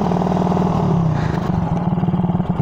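A Suzuki Raider 150 carbureted motorcycle with its stock exhaust pipe revs up close and loud, the tone dipping and then breaking into a choppy, pulsing idle as the throttle drops off.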